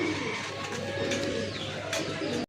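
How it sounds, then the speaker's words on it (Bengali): A Rajgolla pigeon coos in a low, rolling burst close by, a continuous throaty murmur lasting a couple of seconds before cutting off. "অনেক বড় সাইজের একটা মাদি কবুতর, গাঢ় লাল কালারের ভিতরে রাজগোল্লার একটা মাদি"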